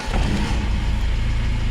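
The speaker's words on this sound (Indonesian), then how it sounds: "Oke Bolo, kita coba hidupkan mesin." A 1987 Mazda Elite car engine fires up and runs, a loud, steady low rumble close by with a brief rise at the start settling into an even running note, no voices.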